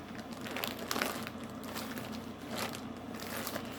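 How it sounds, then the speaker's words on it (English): Plastic bags rustle and crinkle up close, a steady crackling handling sound with small bursts, no voices, while cross-stitch works in progress are handled. "you're going to unfortunately hear bags rustling"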